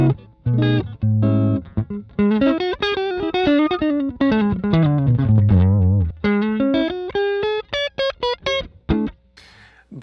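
A distorted electric guitar, a modified Squier Affinity Stratocaster, plays a melodic run of single notes and bends through an amplifier, loud and close, with effects-laden sustain.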